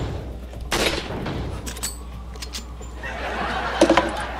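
Gunfire from the Resident Evil 4 video game: a loud broadband shot near the start, then scattered fainter bangs and a quick cluster of sharp pops near the end, over steady game background noise.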